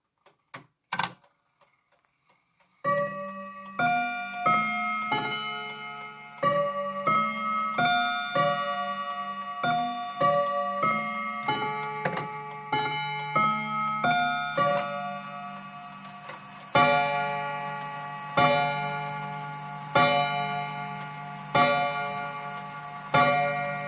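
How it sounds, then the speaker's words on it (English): A 1944 Garrard Westminster mantel clock chimes a run of bright, ringing notes and then strikes the hour with evenly spaced, resonant blows, close and clear in a quiet room. "And here's the hour chiming and striking."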